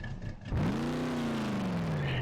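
A supercharged drag car in the BeamNG.Drive video game revs its engine, a deep aggressive roar that kicks in suddenly and then holds at a steady, loud drone.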